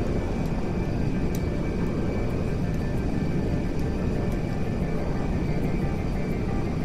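An Airbus A380 jet in GTA 5 comes in for an emergency landing on an aircraft carrier, its engines giving a loud, steady, unbroken roar throughout.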